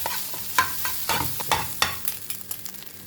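Leftover fried rice sizzles in a frying pan while a utensil scrapes and stirs through it in repeated irregular strokes, close and fairly loud.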